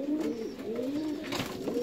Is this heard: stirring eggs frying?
no